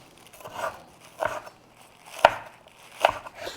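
Herbs are chopped with a knife for a creamy chicken dish, making four distinct crisp chops spaced out on a cutting board. The chops are close and fairly loud, with no talking.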